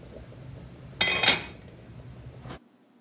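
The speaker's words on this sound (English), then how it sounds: "So now we're going to turn the rice again, bring everything from the bottom to the top" A spoon scrapes and knocks against a pot while rice with gandules is turned over, giving a brief metallic clatter and clink, then a quieter scrape before silence.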